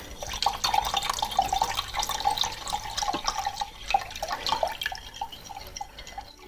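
Cold water pours into a raspberry fluff dessert mixture in a home kitchen, a continuous close splashing trickle with small drips that runs steadily for several seconds.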